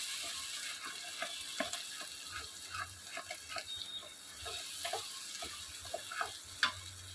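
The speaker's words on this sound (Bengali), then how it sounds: "মশলাটা দিয়ে একটু নাড়াচাড়া করব।" Spices are stirred in a frying pan while cooking stuffed pointed gourd with prawn filling, making a soft, quiet sizzle with intermittent scraping and tapping strokes, with no voices.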